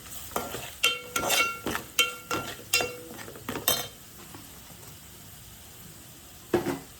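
Mutton masala is stirred in a pan with a string of rhythmic scraping, clinking strokes over a faint sizzle, then a pause and one last stroke near the end.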